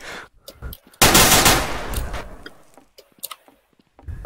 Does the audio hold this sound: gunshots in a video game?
yes